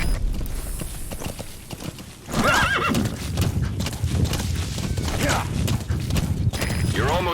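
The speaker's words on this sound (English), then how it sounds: "Use your horse." A horse in the video game Metal Gear Solid V: The Phantom Pain gallops with steady clip-clop hoofbeats and lets out several loud neighs and whinnies over a background of game sound.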